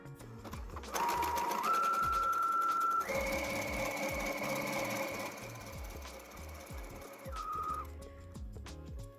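A sewing machine runs an overcast stitch in rapid, steady mechanical chatter with a whining motor tone that shifts pitch partway, the needle clicking in quick regular pulses close by, with no talk.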